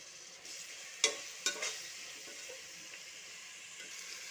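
Tomatoes go into a pan of sautéed ginger and garlic for a fig biryani: a soft, low sizzle with two distinct clattering knocks early on, then a faint steady hiss with no voices.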